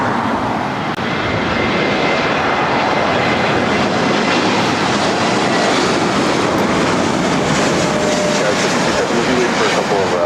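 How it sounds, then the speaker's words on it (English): JetBlue A321neo arriving from JFK and landing at LAX, a loud, steady jet roar that fills the whole stretch, with faint voices mixed in. "JetBlue A321neo coming in from JFK, next arrival."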